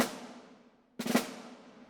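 A single snare drum stroke with tightly played grace notes, a quick close cluster of hits that rings out. It follows the fading tail of a previous stroke, and no one talks.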